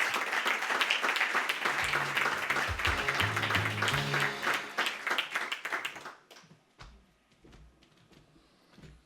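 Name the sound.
audience applause for speaker Fernando Moroy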